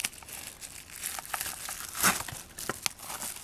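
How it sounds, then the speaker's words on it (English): Sheet of printing paper pressed down onto inked polymer clay and peeled back off, giving soft close crinkling and rustling with a sharper crackle midway, quiet and without speech. "Now I'm going to be using a piece of printing paper to soak up the extra"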